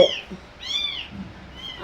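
Cats meow close by, near a kitten whose head is stuck: two or three drawn-out, wavering cries separated by short quiet gaps, with a sharper cry cut off at the very end.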